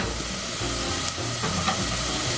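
Plant-based puttanesca sauce ingredients sautéing in a pan, a dense continuous sizzle and hiss with a low steady hum underneath and faint stirring scrapes.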